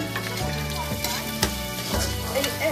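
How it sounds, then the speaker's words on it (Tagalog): Onions sautéing in a pan for ampalaya with pork, a close continuous sizzle with a few stirring clicks over a stepping low hum. "At pag ang ating sibuyas ay medyo medyo nalanta na o kaya nag-crystal na siya, ay okay na siya."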